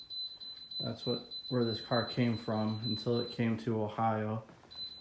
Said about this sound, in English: Let me turn that beeping off because it's going to be annoying.